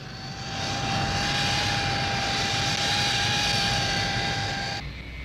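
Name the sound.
Hawker Siddeley P1127 jet fighter in flight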